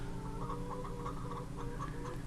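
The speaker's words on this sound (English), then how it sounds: "We're now up to 200 chickens." Chickens on a homestead flock of about 200 birds, heard as a steady dense chorus of overlapping clucks and calls, close and continuous with no talking.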